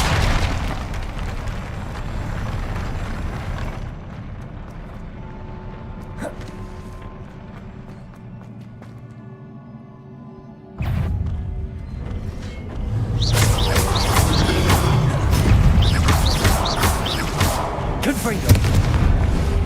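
Confringo blasting spells explode in Hogwarts Legacy, heavy booming bursts rolling out loud and close, with a quieter stretch in the middle before the blasts and crackling debris return.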